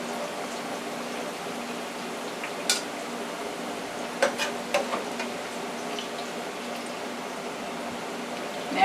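Onions fry in oil in a frying pan with a soft continuous sizzle, broken by a few sharp clicks of a utensil tapping the pan.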